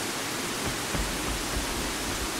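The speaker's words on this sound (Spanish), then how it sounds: "¡Otra cascada! ¡Más agua!" Steady rushing roar of a waterfall in the video game ICO, a dense continuous wash of falling water filling the whole clip with no voices.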